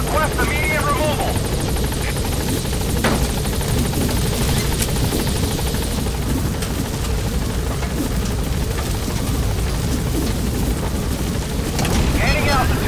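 A support helicopter from the video game Metal Gear Solid V arrives with a loud, steady rotor roar and heavy wind wash that hold constant throughout, with a radio-style voice speaking over it.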